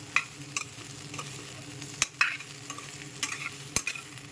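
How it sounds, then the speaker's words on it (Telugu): Okra frying in a steel pot is stirred, giving a steady close sizzle broken by several sharp scraping clicks of the utensil against the metal, with no talking. "ఒక్కసారి కలుపుకుందాం, ఎందుకంటే ఈ స్టీల్ పాత్రలో అవి తొందరగా మాడుతుంది."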